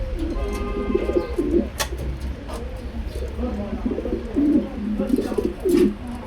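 Pigeons on a breeding farm, including Lahori, King, Mundian and Damascene types, coo in repeated low throaty phrases, with several birds calling close by over a steady background hum.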